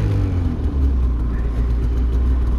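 A snowmobile edges down a steep right side-hill slope with the rider on the brake, its engine a low, steady, close rumble that barely changes pitch through the short stretch.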